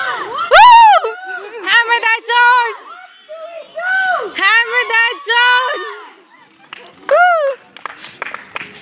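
A team's shouted group cheer at a frisbee match ground in Chennai, with several voices chanting together in loud, rising-and-falling bursts and short pauses between calls.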